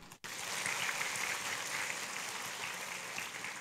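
An audience at a temple summer retreat at Phước Sơn pagoda breaks into applause after a short gap, a soft, steady patter of many hands clapping that continues evenly and fairly faint throughout.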